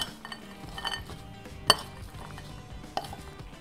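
Apple crumble filling with walnuts being stirred in a dish, giving soft scraping and a few sharp utensil clinks against the dish, one louder knock standing out, with no talking.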